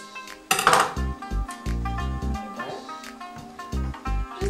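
A big spoon scooping ripe avocado flesh into a carrot mix, with clinks and knocks of spoon against bowl and dish, close and fairly loud, in an irregular rhythm.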